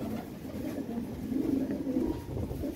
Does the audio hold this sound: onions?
no